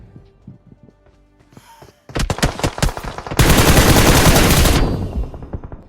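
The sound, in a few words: M4 gunfire in video game BGMI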